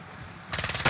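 Video game gunfire erupts in the second half as a quick burst of rapid automatic shots, close and loud, after a quieter lead-in.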